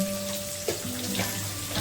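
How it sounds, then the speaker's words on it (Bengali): Onions and potatoes frying together in a pan, a steady close sizzle with faint scraping stirs, no talking. "পেঁয়াজ আর আলু দুটো ভালো ভালো করে ভাজা ভাজা করে অল্প একটু নুন দিয়ে দিই"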